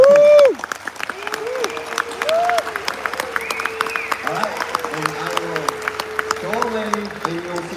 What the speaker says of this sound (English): So I would like to end my stage time by giving a big hand of applause to Youngjun and Josh from round 2.